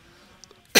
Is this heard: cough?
yes